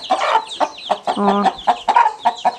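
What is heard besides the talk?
broody hens and two-week-old chicks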